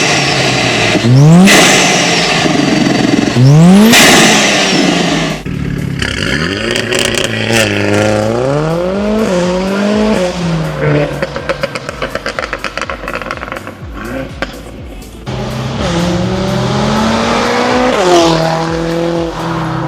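A tuned Mercedes-AMG CLA45s with a Veleno performance exhaust roars loudly through hard accelerations, engine pitch climbing sharply through gears with shifts, deep revving and a continuous close, aggressive exhaust note.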